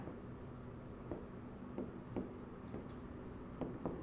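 A pen writes Devanagari script on paper, giving a steady faint scratching with several short sharp taps and strokes spaced through the passage, close and quiet, with no voice.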